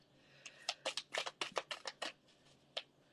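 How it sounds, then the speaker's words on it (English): A deck of tarot cards is shuffled by hand in a rapid run of crisp riffling snaps, close and fairly quiet, ending with one last isolated flick. "I'm just going to shuffle until something jumps out at me"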